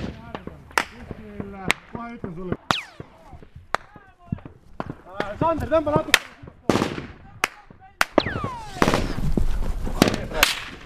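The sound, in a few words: gunfire during firefight between soldiers and Taliban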